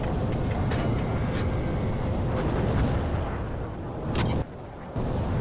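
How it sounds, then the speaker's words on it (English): Heavy bombs dropped from an aircraft blast an American camp in the Vietnam War game Battlefield Vietnam, a dense continuous roar of low rumbling explosions that cuts out abruptly near the end. "Apparently we've also got some bombs underneath our wings."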